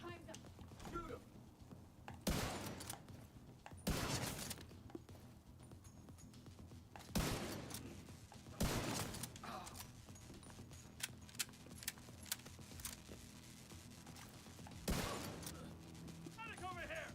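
Gunfire in The Division 2 comes as several loud, sharp shots and short bursts spread across the stretch, set over quieter game ambience and scattered clicks.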